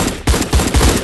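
Gunfire in a role-play video game rattles out as about four loud, rapid shots in quick succession, close and sharp, with no talking.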